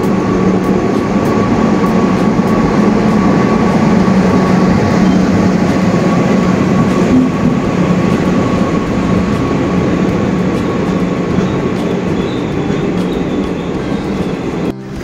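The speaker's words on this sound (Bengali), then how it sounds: "আলটিমেটলি ট্রেনটা ঢুকলো স্টেশনে" A passenger train pulls into a station with a loud, steady rumble and rolling wheel noise lasting throughout, carrying a sustained tonal whine with no talk over it.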